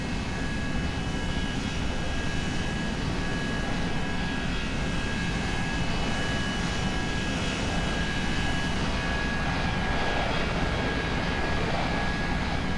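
Airport ambience in the X-Plane 11 flight simulator, a dense, steady roar of aircraft engines with a faint high whine running through it, continuous and even throughout.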